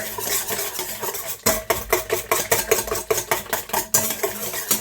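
A utensil stirs crepe batter seasoned with nutmeg in a bowl, producing rhythmic, close scraping and clinking strokes that repeat several times a second with one brief pause, with no voices.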